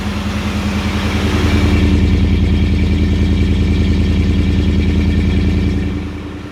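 Ford Raptor pickup truck with a Corsa exhaust idling steadily nearby, a low, rumbling, fairly quiet engine drone with a fine clattering pulse that holds evenly before easing off at the end.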